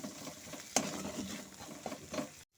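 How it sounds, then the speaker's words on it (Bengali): Fish being stirred and mixed with cumin powder and garam masala in a pan, soft scraping strokes and a faint sizzle, one sharper knock near the start, close and fairly quiet with no talk. "এখন সমস্ত গুঁড়ো মশলার সাথে মাছটাকে ভালো মতো করে মিশিয়ে নেব।"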